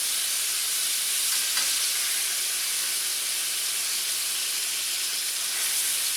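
Butter chicken pieces frying in a pan give a steady, close broadband sizzle and hiss with no talking, while a spatula turns them now and then.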